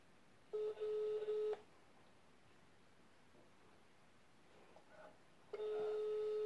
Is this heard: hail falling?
no